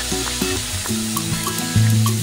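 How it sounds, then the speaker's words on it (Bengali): Poppy seed and cashew paste frying in a pan for doi katla, stirred with a steady sizzle and soft scraping under background music with sustained tones. "পোস্ত কাজু বাটাটাকে আমি একটু নেড়ে নেব আগে।"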